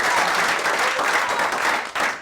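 A studio audience on a comedy talk show bursts into loud, sustained applause, a dense wash of clapping that tapers slightly at the end.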